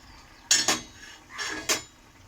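A metal lid lifts off a cooking pot in two clattering bursts: a sharp double clink, a brief scrape, then another ringing knock, close and clear in a quiet kitchen.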